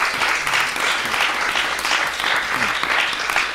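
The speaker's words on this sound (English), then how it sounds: "Can we have a round of applause for him," A live audience applauds the guest Adam Zwar at a film festival event, a dense, steady wash of many hands clapping throughout, with faint voices mixed in.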